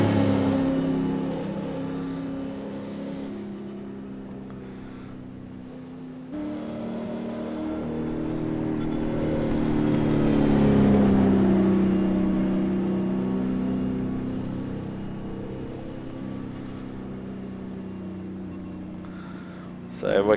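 A V8 Supercar running at Mount Panorama in iRacing, coming down Brock Skyline: a steady engine drone swells in pitch and loudness through the middle, then eases back and holds a sustained hum.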